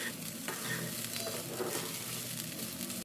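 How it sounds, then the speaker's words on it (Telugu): Masala rice stirred in a pan, a continuous near sizzle with brisk scraping strokes of the spoon, no talking. "చక్కగా కలిపేసుకోవాలి."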